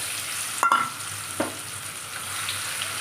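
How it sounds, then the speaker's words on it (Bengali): Ridge gourd, green chili and garlic paste frying in oil tempered with nigella seeds, a close steady sizzle with a sharp clatter and a couple of stirring scrapes, no talk. "এরপরে তেলের মধ্যে ভালো করে এটাকে ভাজতে হবে"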